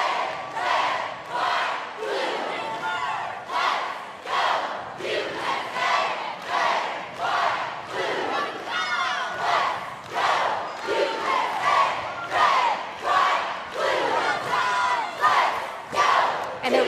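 An all-girl premier cheerleading team, Team USA, yells during a routine at the 2022 ICU World Cheerleading Championships: loud, rhythmic chanted shouts in steady bursts, with a crowd behind them throughout.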